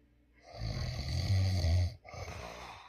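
A man snores at night, one long rasping inhale rattling low and loud, a brief pause, then the start of another rough breath, heard close up in a quiet bedroom.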